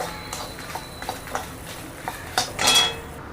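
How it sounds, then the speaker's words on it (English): Red chilies dry roast in a pan, heard as a series of light metallic clinks and taps of a utensil against the pan, spaced irregularly, ending in a short louder scrape with soft crackle; no talking. "Now we'll dry roast the chili."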